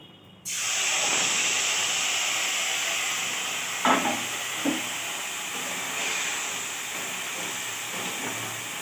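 Spiced fish coated in mustard-chilli paste with mustard oil, salt and turmeric hits hot oil in a kadai, setting off a sudden loud, steady frying hiss that carries on alone, with a couple of faint utensil knocks.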